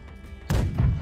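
Ship cannon fire in the naval game Blackwake, a single heavy boom that breaks in midway after a quieter stretch, then a rumbling tail and a second thud, loud and close.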